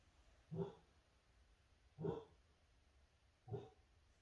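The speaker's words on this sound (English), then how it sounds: "She's barking at air, I think." Three single dog barks spaced evenly about a second and a half apart, muffled and somewhat distant, with quiet in between.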